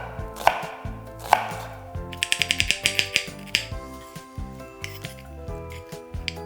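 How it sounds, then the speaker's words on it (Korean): A knife slices an onion thinly on a cutting board in sharp, close taps, first a few spaced cuts and then a fast run of rapid chops, over soft background music. "양파는 얇고 가늘게 채 썰어서"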